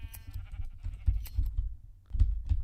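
Sheep in Minecraft bleat in a few short, close bursts, backed by low rumbling and clicking but no talk.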